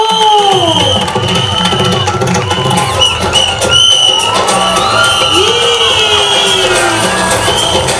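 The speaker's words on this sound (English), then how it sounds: "Applause." Audience at a school annual day cheering, whooping and clapping loudly and continuously, with children's shouts rising through the crowd noise.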